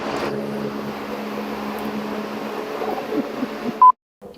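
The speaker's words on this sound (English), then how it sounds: "they're making something from scratch with the blender going." A blender motor whirs continuously for several seconds in a restaurant kitchen, close and loud, then cuts off abruptly after a brief beep.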